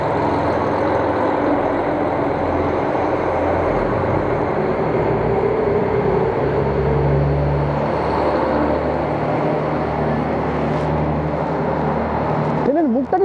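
A train in Japan rumbles steadily at close range, a loud continuous low drone with rising and falling tones and a brief squeal near the end, with voices faintly underneath.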